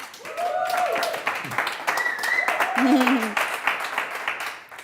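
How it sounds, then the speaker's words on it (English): At an award ceremony at WdKA, an audience claps for the winner and nominated students while voices call out and talk over the steady applause. "Let's have a little round of applause"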